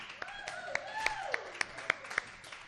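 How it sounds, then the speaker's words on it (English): An audience at a live poetry show claps in a light, scattered way, with sharp separate claps spread across the moment while a voice speaks over them. "Round of applause."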